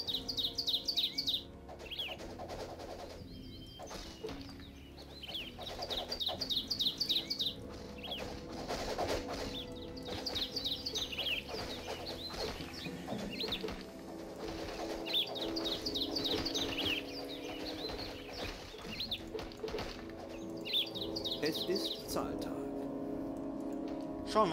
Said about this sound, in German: Und uns zirpen da die Vögelchen in die Ohren.